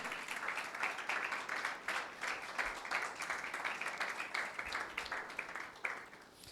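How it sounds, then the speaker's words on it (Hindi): A congregation at a Sunday church meeting claps steadily for Jesus. The sustained, dense applause rolls on evenly, heard faint and somewhat distant throughout. "यीशु के लिए जोरदार तालियां बजाएं।"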